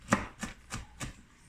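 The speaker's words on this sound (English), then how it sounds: "I just cut those a little bit finer, not a whole lot" A knife chops walnuts on a board for chickweed pesto, with four crisp, evenly spaced strikes close by and no talk.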